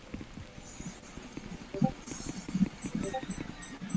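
Footsteps on concrete in the video game Garry's Mod with VJ-Base, a run of quick, light, evenly spaced hard taps, close and fairly quiet over faint background noise.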